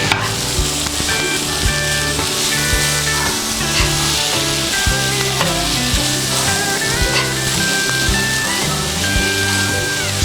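Pasta with coriander stirred in a pan, a steady dense sizzle with scraping and clinking of the spoon running throughout, loud and close, with no talk.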